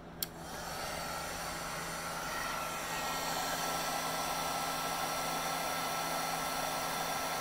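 A heat embossing tool melts garnet embossing powder on paper stars. It blows a steady, fairly quiet hiss like a small hair dryer, starting just after a soft click and running on without a break.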